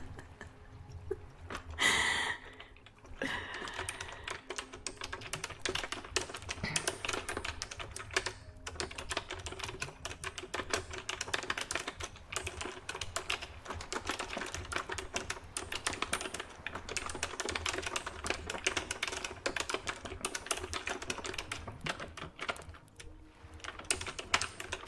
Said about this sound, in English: That's a little bit of keyboard typing.